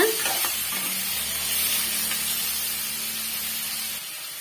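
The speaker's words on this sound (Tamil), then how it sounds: "சேர்த்துட்டு வதக்கி விட்டுக்குங்க இது சிம்பிளான சட்னி தாங்க" Radish chutney sautéing in a pan gives a steady, close sizzle and hiss that holds for about four seconds, then cuts off, with no talk over it.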